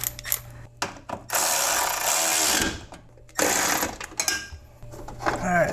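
A power tool tightens a bolt on a Toyota 4Runner bracket, giving two loud bursts of buzzing, whirring drive, each a couple of seconds long, separated by clicks and short quiet gaps, close by and with no talk.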